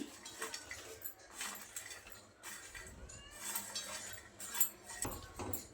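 Bitter gourd pickle being stirred with a spoon in a bowl, giving repeated scraping and clinking strokes in an uneven rhythm with short pauses, close and fairly quiet, with no talk.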